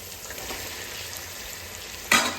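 Oil sizzles steadily in a pan, then a louder hiss flares up as skin-on chicken is added near the end, all close and without talk.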